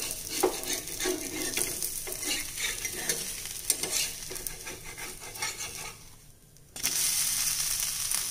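A toor dal dosa cooks on a hot pan with steady sizzling while a spatula scrapes and taps against the surface, then a short lull before the frying hiss swells again after the dosa is turned.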